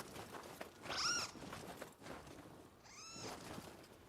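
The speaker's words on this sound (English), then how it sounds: "Oh, it's a kitty. It's the spirit cat." A spirit cat in the Nioh 2 video game gives two soft, high meows about two seconds apart, faint over low game ambience.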